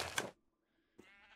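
A Minecraft sheep bleats once, loud and close, then a second bleat follows after a short silence.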